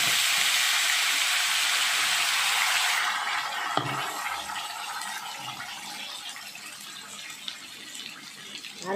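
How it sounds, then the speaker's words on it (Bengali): Ground spice paste for a yogurt crab curry hits hot oil in a pan with a loud, hissing burst for about three seconds, then settles into a quieter, steady sizzle with an occasional utensil tap. "দিয়ে মশলাটা ভালো করে কষিয়ে নিচ্ছি"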